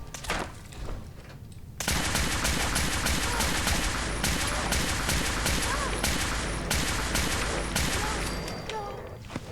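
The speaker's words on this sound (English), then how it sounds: "Who's shooting at me?" Rapid, dense gunfire in Fallout 4: Nuka World, starting with a couple of isolated shots and then erupting into a continuous loud fusillade of overlapping bursts that rattles on for several seconds.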